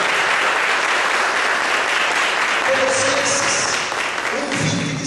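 A church congregation claps in dense, sustained applause that fills the space evenly, with a faint voice rising near the end.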